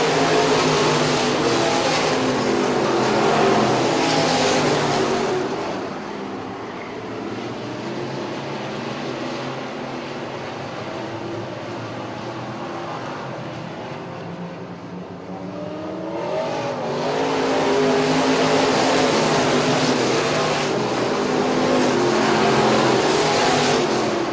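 Street stock race cars lapping an oval track in a 2014 race, a loud continuous engine roar that swells as the pack passes close, eases to a more distant drone mid-lap, then builds again.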